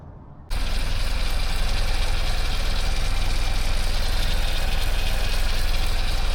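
A classic Mini engine starts up on a cold day and settles into a steady, close idle with a rhythmic low thrum and slight mechanical knock.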